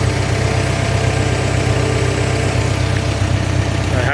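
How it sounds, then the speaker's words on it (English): A gasoline-powered IH 574 tractor with electronic ignition runs steadily at PTO speed, just under 2000 rpm, giving a loud, constant engine drone with no break for the whole stretch. "I'm going to crank it up to PTO speed, which is looks like around 1950 or so"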